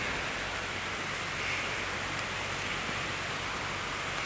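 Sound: rain starting on a beach in Pattaya

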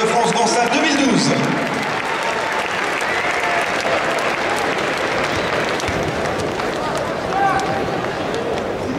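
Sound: audience applause for judo champions

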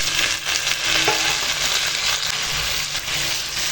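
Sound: washed mutton and tomato added to frying onions

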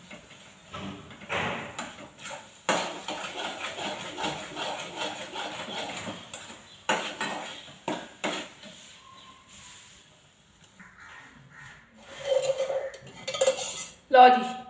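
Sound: cooked sweet transferred from a kadhai into a vessel

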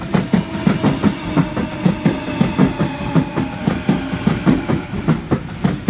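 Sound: Waratah electric passenger train passing through station

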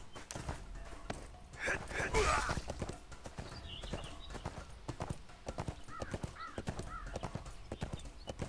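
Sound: horse hooves clip-clopping in ArcheAge video game

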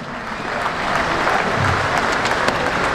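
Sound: concert audience applause

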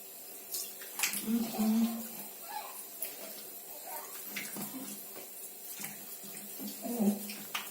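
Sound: tap water running gently at sink

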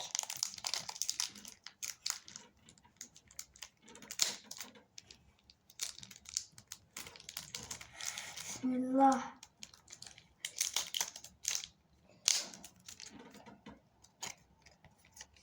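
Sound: opening a box of cards

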